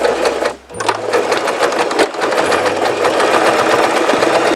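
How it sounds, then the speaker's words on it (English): A sewing machine stitching two seams along the fold of a cab curtain for a Class C motorhome, running loud and close in a steady continuous whir after a brief pause near the start. "So I'm going to sew two seams, one close to the actual fold and then one further over here."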